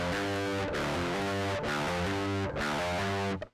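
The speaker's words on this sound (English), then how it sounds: "We also have what I like to call the triplet hammer-on" Distorted electric guitar plays triplet hammer-ons from the open string, three sustained repeating phrases with bright overdriven tone and chorus-like shimmer, loud and close, ending in a quick fade.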